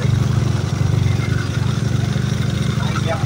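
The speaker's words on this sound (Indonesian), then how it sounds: "Kita coba geber sedikit." Honda Beat scooter engine with a charging regulator fault, held at a steady fast idle with a dense low rumble and rattling clatter, close and loud throughout.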